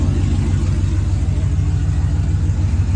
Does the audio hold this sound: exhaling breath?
no